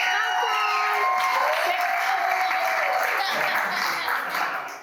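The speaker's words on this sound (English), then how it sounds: "if we can get a huge round of applause for my co-star" Wedding guests applaud loudly and steadily in a barn venue, a full, dense burst of clapping with some cheering voices mixed in, sustained throughout before fading at the end.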